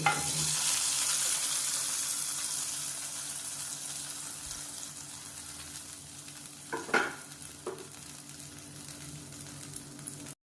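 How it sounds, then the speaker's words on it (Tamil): Cashews and raisins fry for a coconut payasam with a soft, steady sizzle, joined by a few clinking stirs and scrapes of a spoon in the pan partway through; no voices. "முந்திரி பருப்பு கிஸ்மிஸ் பழமும் நல்லா பொரிஞ்சிருச்சு"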